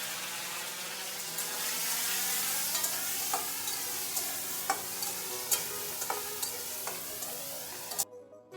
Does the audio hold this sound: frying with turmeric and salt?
yes